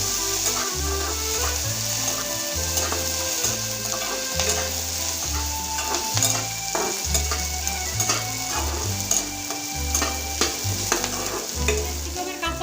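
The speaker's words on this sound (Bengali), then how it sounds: "ক্যাপসিকামটা লাল করে একটু ভেজে নেব" Capsicum fries in a pan with ginger and garlic, giving a constant sizzle with repeated spatula stirring and scraping, close and clear over rhythmic background music.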